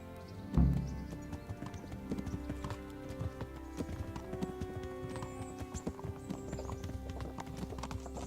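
Horse hooves in the game Kingdom Come: Deliverance clip-clop in a steady trotting rhythm, moderately close, over faint background music and ambience.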